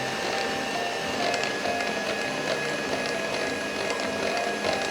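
An electric mixer creams powdered sugar for a carrot cake, a steady close motor whir with a faint rattling beater texture running throughout.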